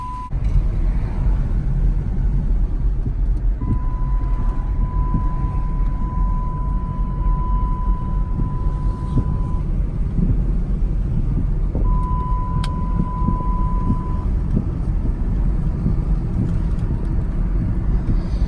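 A Dodge Magnum project car idling steadily just after starting, a constant low engine drone throughout with a couple of long electronic beeps partway through and no talk.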